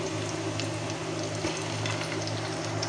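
Onions frying in a pan for a tilapia steak dish, a loud steady sizzle and crackle with a dense hiss and scattered pops, continuous and close with no talking.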